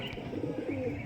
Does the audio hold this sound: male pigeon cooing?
yes